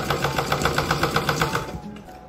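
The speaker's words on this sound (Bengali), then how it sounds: "ঠিক এটা সাইড দিয়ে এরকমভাবে একটা চাপ সেলাই দেব।" Sewing machine stitching a blouse neckline, a steady rapid rhythmic clatter of evenly spaced stitches running close and loud for about two seconds, then slowing and trailing off.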